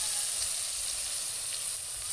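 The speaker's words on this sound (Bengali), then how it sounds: "এই যে এবার পটলগুলো ভেজে নিচ্ছি" Pieces of pointed gourd (potol) fry in oil with a dense, steady, close sizzle that stays constant and loud, with no voices over it.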